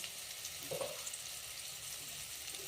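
Potato being stirred into a spiced mixture of chilli paste, turmeric and curry leaves frying in a pan for vada pav, a soft steady sizzle with faint stirring scrapes, close and continuous, no talking.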